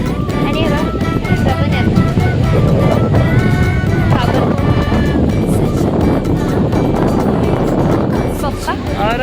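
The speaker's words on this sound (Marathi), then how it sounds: "एवढा वारा सुटलाय ना, वारा सुटलाय ना खूप" Strong wind sweeps across Bhate beach on the Konkan coast, a loud, steady roar of gusting air and surf that fills the whole stretch, with voices mixed underneath.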